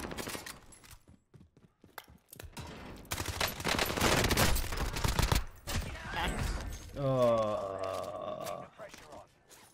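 Gunfire in Modern Warfare 2019 Rebirth, heavy bursts and scattered shots, loudest midway, mixed with game effects and a rising whine near the end, while people talk over it.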